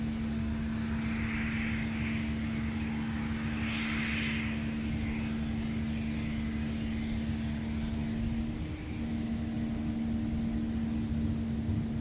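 Jet airliner taking off from a runway at MSP airport, a steady distant engine roar with a low hum and whining tones, constant throughout with no voices.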